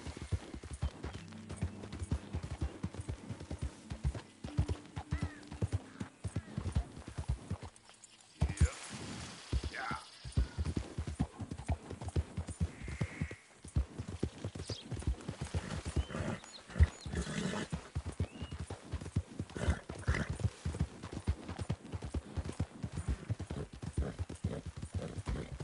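In Red Dead Redemption 2, a horse's hooves keep up a steady clip-clop through most of the stretch, with a brief pause and a neigh partway along. Someone talks over the hoofbeats.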